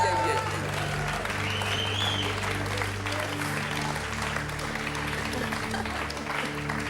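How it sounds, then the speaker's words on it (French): An audience claps at a French TV game show set, a dense and loud burst of applause that carries on steadily for several seconds, with someone talking over it. "Ce qui me fait plaisir, c'est que votre mari applaudit tout ça."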